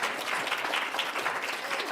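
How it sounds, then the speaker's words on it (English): Dense, steady audience applause fills a debate society hall for the debate winner, even and sustained throughout at moderate loudness with no pauses. "Can we please give him a round of applause?"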